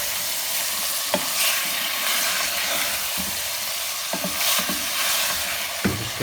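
Beef keema frying in a pan, with a constant close sizzle broken by sharp clacks and scrapes of a spoon stirring the mince, loud and unbroken by speech.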